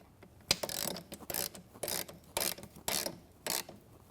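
A bolt being tightened on a bracket while assembling a studio reformer with wooden posts, heard as close, repeated bursts of mechanical ratcheting clicks in an irregular rhythm, about eight strokes.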